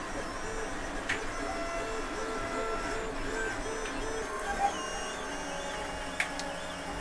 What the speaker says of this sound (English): Here is one of the hinge arms being printed.